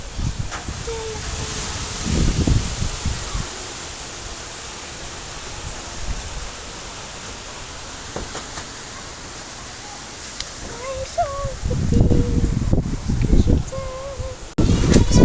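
Strong typhoon wind roars against a house roof in a broad, steady rushing noise, with gusts and rattling bumps, while a person speaks intermittently over it.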